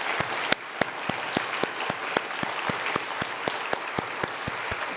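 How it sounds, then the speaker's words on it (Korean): A church congregation claps in a steady, rhythmic unison beat, each sharp clap evenly spaced and fairly close, with a dense wash of scattered hands filling in between. "우리 하나님께 한번 박수 한번 합시다."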